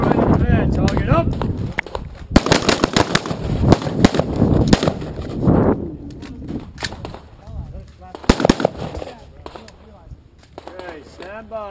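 An AR-15 rifle fires accelerated pairs on an outdoor range: two sharp, closely spaced double shots several seconds apart, heard amid voices calling commands.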